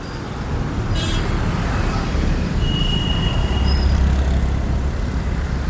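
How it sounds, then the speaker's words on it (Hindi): Steady roadway traffic noise from passing cars and other vehicles, a continuous loud broadband rumble with a brief high toot near the start and faint distant tones, with no talking. "काफ़ी ट्रैफिक है, काफ़ी नॉइस आ रहा होगा।"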